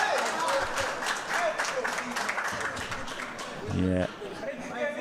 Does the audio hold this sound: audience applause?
yes